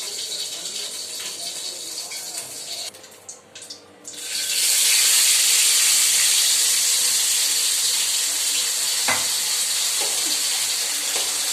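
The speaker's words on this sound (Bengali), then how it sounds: "এই মাছ খুব একটা বেশি কড়া করে ভাজছি না" Large fish frying in hot oil, a loud, dense, steady sizzle that swells up after a quieter opening few seconds and carries on without a break, with faint clinks around the pan.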